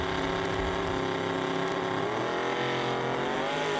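Chevrolet Camaro drag racing down the strip at a street drag event, its engine roaring loud and steady with a pitch shift partway through, tire and race noise filling the whole stretch.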